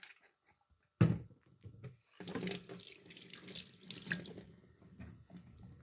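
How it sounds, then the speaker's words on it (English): Cold water from a kitchen tap splashing into a sink as cleaned hake fish is rinsed, starting abruptly after a soft thump and running steadily with fluctuating spatter, close and fairly quiet. "As I said, I'm just rinsing it off."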